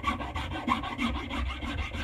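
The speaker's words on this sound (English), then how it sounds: "So I will do it with a rasp" Steady back-and-forth strokes of a rasp filing a wooden axe handle during hafting, a dense rhythmic scraping repeated about a dozen times in two seconds, close and continuous with no talk.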